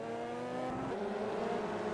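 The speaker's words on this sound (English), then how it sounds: "Engine not sounding too healthy." A race car in a WTCC test race drones with a steady, rough engine note that sounds unhealthy, held continuously at moderate distance.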